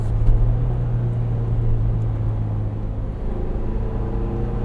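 A 2023 Ford Bronco Heritage Edition with the 2.3 EcoBoost engine and seven-speed manual drives along, giving a steady low, industrial engine drone and rumble heard from inside the cabin, with no talking.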